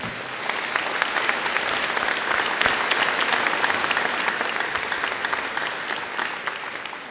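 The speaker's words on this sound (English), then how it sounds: "If you please would give them a round of applause" A graduation audience for the Cloverleaf Class of 2026 gives a sustained round of applause, dense and steady at a fairly loud, even level throughout, with no speech on top.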